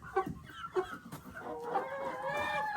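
Several chickens cluck nearby in short bursts, building into a busier overlapping chorus of clucks and squawks.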